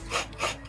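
Coconut flesh grated by hand while cooking adobo sa gata, a steady close rasping scrape that swells in repeated strokes, with no voices.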